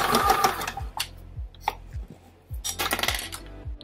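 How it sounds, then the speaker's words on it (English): Home sewing machine stitching a 3/8-inch seam around the back of a double-layer hoodie with a neckband, running in short bursts of rapid needle clatter separated by brief pauses and small clicks, close and clear with no talking. "use your sewing machine"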